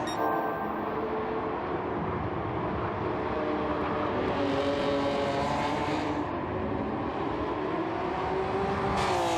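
Race car engines in a racing video game at Interlagos drone continuously with rising and falling pitch as cars pass, a loud sustained motor whine throughout.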